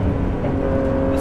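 A 2018 Ford GT's engine drones rough and mechanical while driving, a loud steady interior hum with a sustained rising tone and no speech over it.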